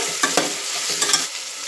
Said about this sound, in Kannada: ಈರುಳ್ಳಿ ಎಲ್ಲ ಮೆತ್ತಗಾಗೋ ಥರ ಇದನ್ನು ಹುರ್ಕೊಳ್ಬೇಕು